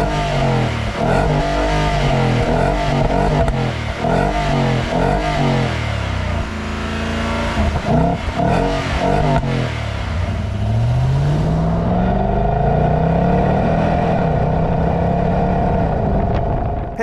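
Revving petrol V8 exhaust of a 2024 Nissan Patrol Warrior (Y62) with side-exit exhaust, loud and close, rising and falling in sharp blips with crackle before settling into a sustained climbing rev.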